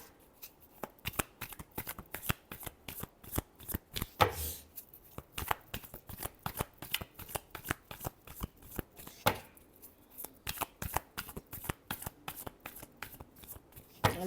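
Tarot cards are shuffled by hand in a long run of crisp, rapid riffles and snaps, close up, with brief pauses between bursts and no talk over them.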